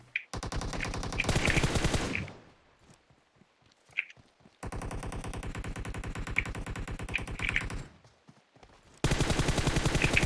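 Rapid automatic gunfire from PUBG Mobile rattles in long, loud bursts separated by short pauses with scattered single shots, with no talk.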